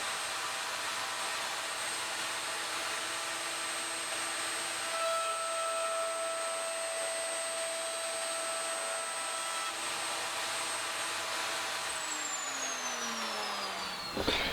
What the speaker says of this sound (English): That's drilled the holes through from the hinges into the plates